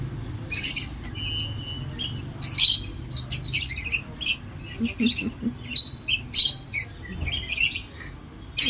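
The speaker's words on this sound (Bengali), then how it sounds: "এদেরকে পাখির আওয়াজ শোনালেই এরা চি চি চি চি ওদের ডাক শুরু করে দেবে" Pet birds chirping and squawking in bright, busy bursts, several calls overlapping in quick irregular clusters, close and fairly loud over a low room hum, with no talking.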